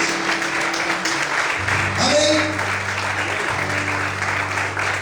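A church congregation applauds in praise at an evening service, a dense, steady wash of clapping that fills the space, with a steady low tone beneath and a voice speaking briefly over it.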